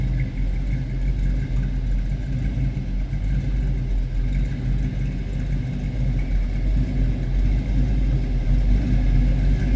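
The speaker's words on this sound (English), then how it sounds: "Little rumble coming out of that small block." A 1936 Chevrolet Master Coupe street rod with a small-block engine idles with a steady, deep rumble heard from behind the car, continuous and fairly loud with no talk over it.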